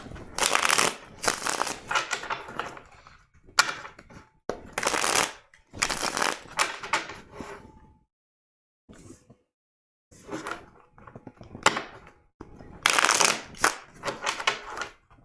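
A deck of tarot cards is shuffled in repeated bursts of crisp riffling and flapping, close and alone, separated by brief pauses.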